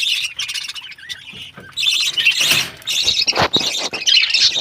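A colony of pet birds calling, with dense, loud, high chirps and squawks overlapping continuously at close range, interrupted by a few brief rustling bursts, with no talking.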